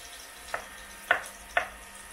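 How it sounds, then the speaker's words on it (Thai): Minced garlic frying in butter in a pan, heard as a faint, steady sizzle broken by three short, soft stirring scrapes about half a second apart. "คั่วกระเทียมให้มันหอมนะฮะกับเนยแบบนี ้"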